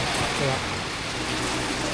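Steady, dense rain falls at a resort in Kaeng Krachan, Phetchaburi, a loud continuous hiss and patter that fills the whole stretch without letting up.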